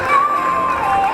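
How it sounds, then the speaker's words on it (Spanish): A crowd at the finish line of the XXXIV Volta a Peu a L'Eliana 2016 footrace cheers a junior runner named Tonet, a brief, loud burst of voices with a high shout on top. "ahora vamos a aplaudirle, por favor, a Tonet"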